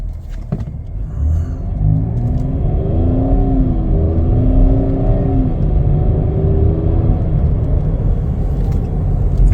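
A 2020 Chevrolet Blazer 2LT on a test drive, steady low engine and road rumble from inside the cabin that swells briefly as it accelerates, with no talking.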